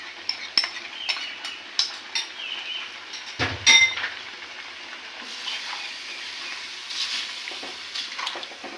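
A utensil stirs a powdered milk mixture into a roast in a pot, making scraping and clinking taps on the metal, with a soft sizzle continuing underneath.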